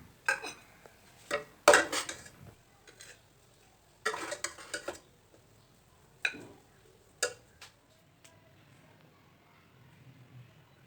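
Jaggery rice being mixed and served from a pot, with scattered clinks and scrapes of a spoon against metal, some quick clusters and longer pauses between them, fairly close and without talk.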